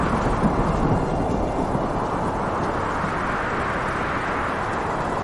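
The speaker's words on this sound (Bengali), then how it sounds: "তীব্র ঝড় আর বৃষ্টির মধ্যে তারা বাইরে বেরিয়ে আসে।" A cartoon thunderstorm with heavy rain: a steady, wide roar of wind and downpour that holds at an even loudness from start to finish, with no voices over it.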